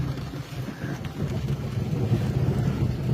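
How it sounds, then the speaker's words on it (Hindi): Gusty wind roars and buffets the microphone amid steady rain, a continuous low rumbling storm noise, in Pakistan. "ये बारिश देखें, ये तूफान देखें।"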